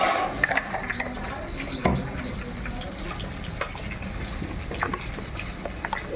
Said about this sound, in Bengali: যে পেস্টটা করেছি তার মধ্যে একটু পরিমাণ মতো একটু জল দিচ্ছি